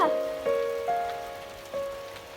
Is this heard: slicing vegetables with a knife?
no